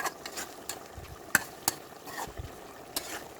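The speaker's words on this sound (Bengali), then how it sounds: "ধনিয়া পাতাগুলো যাতে একটু সিদ্ধ হয় তার জন্য নেড়ে দিচ্ছি" Fish curry with coriander leaves being stirred in a pan, a soft scraping and gentle sizzle with a few sharp spoon taps against the metal, close and fairly quiet.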